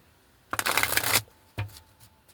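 A burst of card shuffling, a dense riffle lasting under a second, followed by a shorter second riffle, close and fairly loud.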